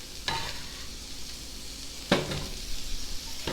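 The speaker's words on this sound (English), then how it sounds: "I'm going to add the meat now." Tri-tip meat dropped into a pan of fried onions for browning, a sharp burst of sizzle near the start and a louder one about two seconds in, followed by steady frying hiss.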